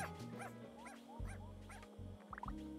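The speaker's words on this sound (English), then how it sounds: "All these dogs are way too loud." Several dogs yip, bark and whimper over one another in a video game, a busy overlapping chorus of short calls heard close and fairly loud over a steady low background.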